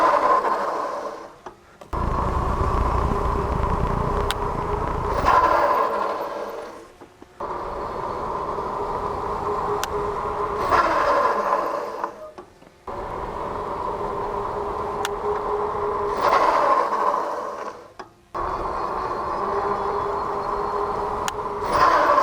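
TurboAnt Thunder T1 electric fat tire bike rides with a steady motor whine and tire roar, then both brakes are pulled to stop, repeated in four runs separated by brief quiet pauses.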